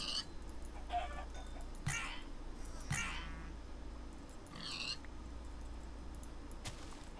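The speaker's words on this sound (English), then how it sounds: "Where the fuck did these chickens come from?" Chickens clucking in Minecraft Sky Factory, a few short squawky calls in scattered bursts over a low steady hum, moderately close, with no talking.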